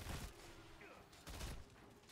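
Machine gun fire in Heroes of the Storm: two short, muffled bursts of rapid shots, faint and low in the mix.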